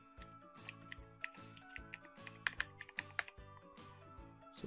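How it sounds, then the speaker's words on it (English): A password is typed on a computer keyboard in a steady run of fast, close, crisp key clicks, with no voices. "Type your username."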